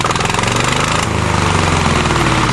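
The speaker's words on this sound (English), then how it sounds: "Fire that diesel up, Rick." A diesel engine that powers a welder runs loud and steady, with a rapid, even chugging throb that holds close and constant. Its rhythm shifts slightly about a second in.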